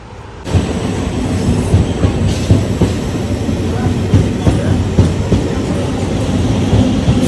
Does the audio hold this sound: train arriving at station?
yes